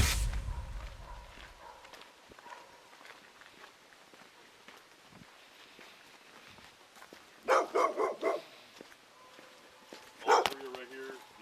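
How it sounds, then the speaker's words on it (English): Sharp, loud bursts of barking from an aggressive dog shut inside a car come in two clusters late in the clip, after a stretch of faint background noise and talk. "the aggressive dog is in the car, so just don't open it"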